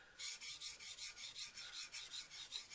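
A blade's micro bevel being polished on a Nubatama sharpening stone, with close, steady back-and-forth rasping strokes in an even rhythm of about five strokes per second.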